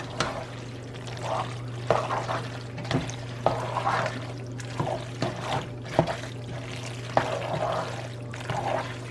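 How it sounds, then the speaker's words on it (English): Food from a bag is mixed in a bowl, giving soft, wet, squelching stirring strokes that recur every second or so at a low, close level over a steady background hum. "And then you're gonna want to mix that."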